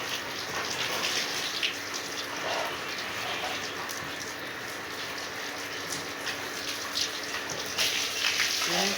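Water sprayed from below onto the roof of a village house on a hot day, making a steady, continuous splashing hiss that swells slightly near the end, with no voices.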